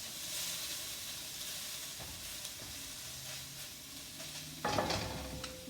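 Vegetables sizzle in a pan for a fresh cauliflower stir-fry, a soft steady frying hiss with a sudden louder burst of sizzling near the end; no talking.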